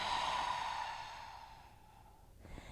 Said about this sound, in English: Long exhale through the mouth.